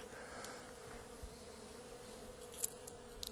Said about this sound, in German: Kommen Bienen raus da.